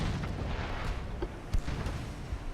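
Naval guns fire during a battle in the Ultimate Admiral: Dreadnoughts video game, with a few dull booms and sharp reports popping over a continuous low rumble.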